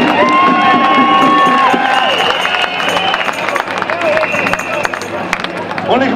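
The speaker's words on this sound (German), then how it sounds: "wir brauchen Applaus voneinander" Crowd at an anti-Corona-measures demonstration in Berlin cheering and clapping, with whistles, shouts and loud babble of voices throughout; people are talking over the noise.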